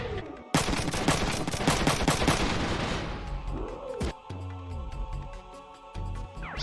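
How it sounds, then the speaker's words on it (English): Rapid bursts of mech gunfire in the video game Front Mission 3 pound loudly for a few seconds, then fade into game sound effects and tonal whooshes. "Now the other guy's gonna shoot him."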